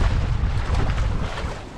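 Strong wind buffets a boat out at sea, a loud, steady low roar of gusts and water noise filling the whole moment without any voices.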